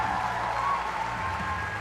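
Indian supporters in the crowd applauding a 16-year-old shooter leaving a 10m air rifle women's final in New Delhi, a brief steady patter of clapping from a moderate-sized audience.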